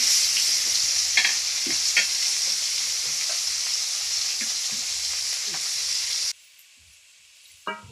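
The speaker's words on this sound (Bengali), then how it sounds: "এই যে মাছ রান্না করতেছি, ওই মাছ ভাজি করতেছি, রসা হবে।" Fish frying in a pan for a curry in a village kitchen gives a steady, close hiss and sizzle with faint stirring clicks, cutting off abruptly near the end.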